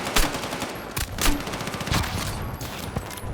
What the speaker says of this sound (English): I'll just put a clip on screen of dual grenade launchers